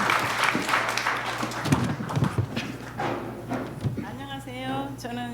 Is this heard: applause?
yes